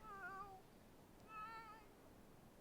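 A game cat named Porkchop gives two drawn-out, mournful yowls separated by a brief gap, mid-level against a soft background hiss.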